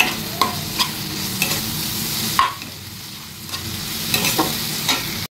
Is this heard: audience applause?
no